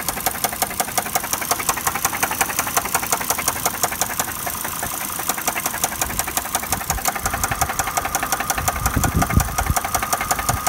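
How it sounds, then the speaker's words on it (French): A car engine runs rough and knocks, a loud, close, fast rhythmic ticking and thudding over a steady idle hum that continues without pause throughout. "le moteur n'est plutôt pas en forme"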